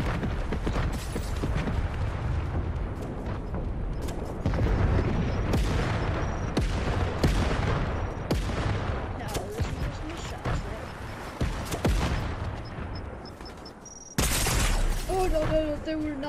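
Rapid gunfire bursts in the Fortnite video game, repeated sharp cracks through most of the stretch over busy game effects, with a sudden loud burst near the end.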